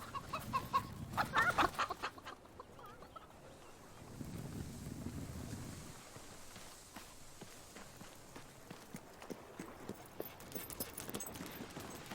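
Chickens clucking in the video game Fable III, a run of short clucks up front followed by quieter scratchy movement and intermittent clucks, no talking.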